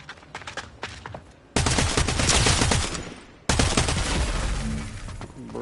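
Gunfire in Fortnite: a scatter of lighter shots, then two long, loud bursts of rapid automatic fire, each trailing off slightly, with no voices over it.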